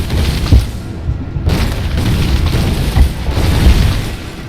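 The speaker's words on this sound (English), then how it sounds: "blazing away at each other with their respective onagers" Onager catapults fire in a Rome Total War battle, a run of loud booming launches and impacts thudding one after another over a continuous rumbling din.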